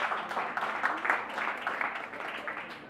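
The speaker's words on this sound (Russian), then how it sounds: "Ваши аплодисменты, пожалуйста." A seated audience at a music industry event applauds with a continuous, even wash of clapping hands, moderately loud and sustained for the whole stretch, with no speech over it.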